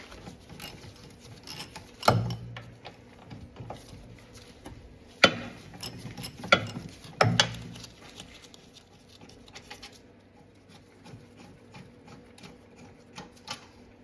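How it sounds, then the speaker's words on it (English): Quiet clicking of a ratchet with a 17mm socket loosening the rear brake caliper bracket bolts on a 2010-2015 Lexus RX350/RX450h, with a few sharper clacks and metallic knocks among faint ratcheting ticks. "Unbolt the caliper bracket bolts using a 17mm socket."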